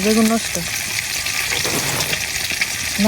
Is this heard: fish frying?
yes